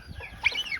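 Brief, faint gobbling and clucking calls of turkeys and hens close by, a few quick warbling notes over light background noise.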